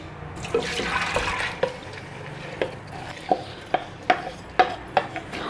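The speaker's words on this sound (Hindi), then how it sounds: "तो व्यूअर्स, सबसे पहले हम दाल ऐड करेंगे।" Soaked, washed lentils are tipped into a cooking pot, giving a soft wet rustle followed by a series of sharp clinks and taps of a spoon against the pot, fairly close and with no talk.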